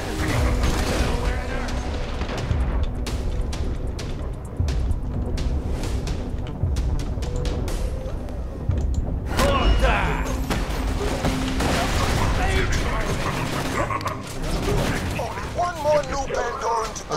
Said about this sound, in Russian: Автоматическая турель готова к стрельбе.